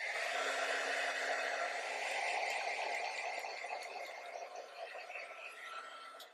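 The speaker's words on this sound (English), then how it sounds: "And go ahead and heat set this." A heat tool blows over ink on a card to set it, a steady close airy whir that holds and then tapers off near the end, with nobody speaking.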